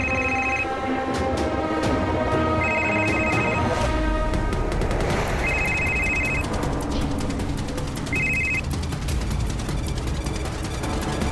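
A mobile phone ringing about 30 metres away in a tense police search scene, its repeating electronic ring bursts sounding four times over loud, dense background music and effects.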